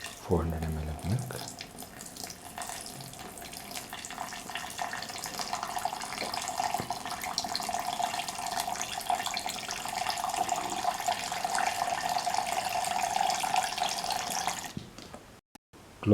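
Milk pours steadily into a mixie jar for about fourteen seconds, a continuous splashing, running-liquid rush heard close, ending with a brief clatter.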